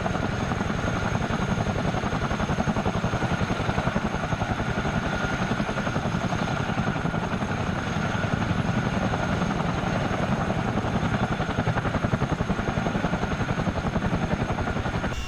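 A Miltech Simulations CH-47D Chinook in the MSFS flight simulator gives a steady, loud rotor blade slap, a rapid rhythmic thumping over a dense whining engine roar, heard from outside the aircraft with no voices.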